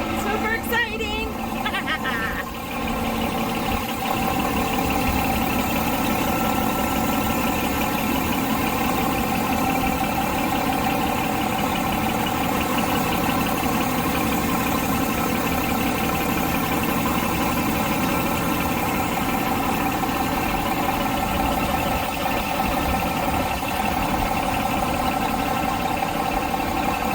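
A Cummins engine idles with a constant, smooth, mid-pitched hum and faint vibration, close and unchanging for the whole stretch, with a voice briefly audible at the start.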